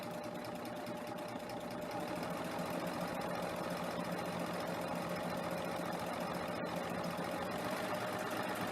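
A serger overlock machine runs a three-thread wide overlock stitch through fabric, a steady continuous mechanical whir with a rapid buzzing rhythm, close and fairly loud throughout with no voices.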